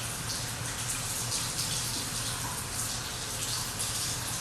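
Water pours steadily from a tap, loud, continuous and close, with a gushing hiss and no voices. It is the water being added to a granular face scrub.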